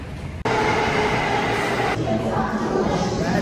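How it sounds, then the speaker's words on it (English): Loud, steady rumble of a subway train riding from Brooklyn back to Midtown Manhattan in New York City, a continuous roar and rattle of rail cars starting with a sudden surge, without talk. "Back on the train."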